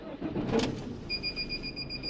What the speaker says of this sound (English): that beeping's just to say we're hooked up.